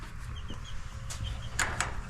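Backyard chickens in the middle of a spring molt give a few soft, short clucks and calls at close range over a steady low rumble of background noise.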